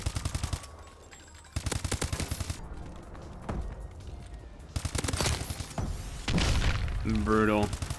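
Rapid bursts of AK rifle fire in the Call of Duty: Advanced Warfare video game, loud repeated volleys alternating with quieter gaps, with a player's voice talking over the action.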